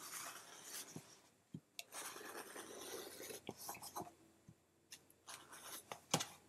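Scissors cutting out printed paper quilt templates, faint close snips and paper rustles in an irregular sequence with a few sharper clicks, no talking.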